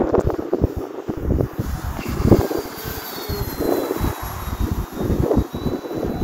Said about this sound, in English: It's going to be a little sketchy on the landing because of the wind.